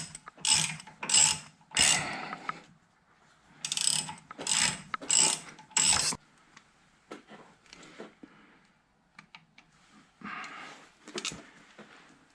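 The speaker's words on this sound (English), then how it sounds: "Now we'll use a 3/8 Allen to try and get these bolts tightened up." A 3/8 Allen ratchet tightens brake caliper bolts on a Chevrolet Camaro, loud bursts of rapid clicking ratcheting in several runs, then quieter scattered clicks and handling noises.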